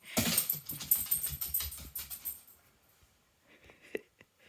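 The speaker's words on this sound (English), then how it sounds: "That's a big dog." A big dog makes a burst of loud, close barking or shaking noises over the first couple of seconds, then the sound fades into near quiet with a few faint scattered clicks.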